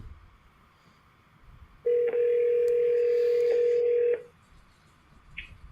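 Telephone line with a single steady tone lasting about two seconds, clear and close over a faint background hiss, with no talking.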